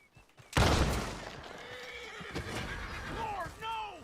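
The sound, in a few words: horse neighing in video game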